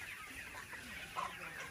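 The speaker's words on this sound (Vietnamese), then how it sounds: "Đấy, gà rất là nhiều luôn." Chickens cluck on a large Vietnamese poultry farm holding thousands of birds, a dense, steady murmur of many hens at a distance with one brief louder cluck standing out.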